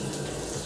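Cooking oil pours into a kadhai on a gas stove in a short, steady, close-up gush of flowing liquid.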